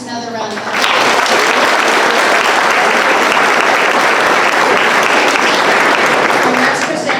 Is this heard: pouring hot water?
no